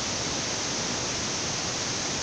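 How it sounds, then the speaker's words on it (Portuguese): A forest waterfall gives off a constant, dense roar of rushing water, even and unbroken from start to finish, with no voices or other sounds standing out. "Nem imagine se o município tinha uma cachoeira dessa"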